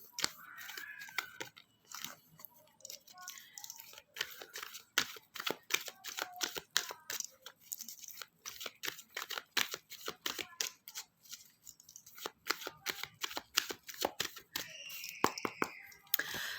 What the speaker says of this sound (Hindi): कार्ड्स को अच्छे तरीके से शफल करेंगे